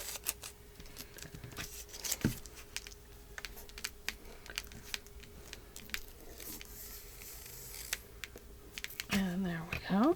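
Pages being cut from a book, a quiet scene of scattered light snips, clicks and handling noises with a soft hum beneath and a louder rustle near the end.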